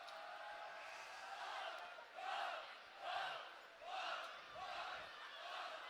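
Waupun high school hockey fans in an arena performing their roller coaster chant, rising and falling crowd yells repeating in rhythmic waves about once a second, heard from a distance.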